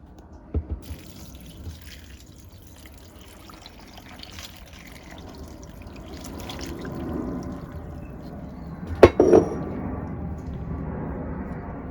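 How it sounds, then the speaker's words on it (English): Water runs and splashes steadily into a pot of vegetable peelings for stock, growing fuller over several seconds, with a brief clatter near the end. "And then I'm just going to cover it all in water."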